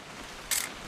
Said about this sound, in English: Just want to get a shot of you, Dawn